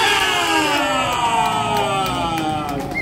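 A large crowd cheers and whoops continuously at a Philippine public gathering, a dense, loud wash of voices with shouts rising above it and no pause, as a speaker is called up to talk.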